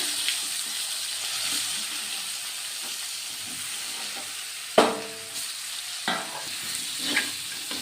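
Salted pointed gourd (potol) pieces fry in a pan with a little turmeric, a soft continuous sizzle broken by a few sharp clinks and scrapes of stirring, nearby and without talk.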